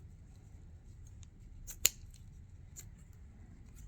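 A single sharp scissor snip through grapevine, close and crisp, with a few faint clicks before and after over quiet room noise.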